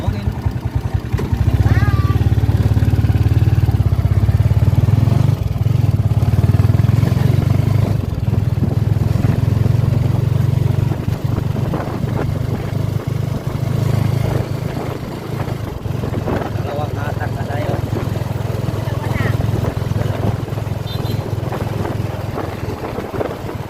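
Motorized tricycle engine running steadily and loud while carrying passengers at night, a constant low drone throughout with some clatter and voices over it.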